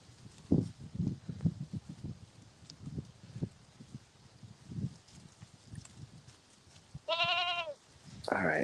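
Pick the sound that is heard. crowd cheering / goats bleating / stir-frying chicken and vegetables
goats bleating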